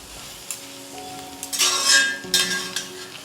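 Chicken noodles stir-fried in a hot pan and tossed with two spatulas: a steady sizzle with scraping and stirring that swells in two loud bursts, close and with no talking.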